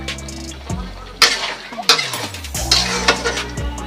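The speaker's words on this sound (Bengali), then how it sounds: "এইভাবে নাড়তে নাড়তে শাকের জলটা শুকিয়ে যাবে" Spinach frying in fish oil is stirred in a pan, with repeated metallic clinks and scrapes of the utensil over a sizzling hiss, alongside a sustained tonal hum.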